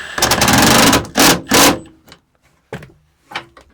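Impact wrench tightening the clamps of an ORO bed rack mounted over a soft tonneau cover, heard as three quick loud whirring bursts followed by a few faint, brief clicks and rattles.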